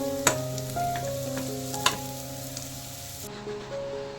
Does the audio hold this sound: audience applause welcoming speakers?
no